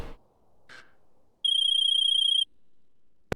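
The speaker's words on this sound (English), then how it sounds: "Is that your phone or his phone?" A mobile phone ringtone for an incoming call gives one steady, trilling electronic tone lasting about a second in a quiet room, clear and close.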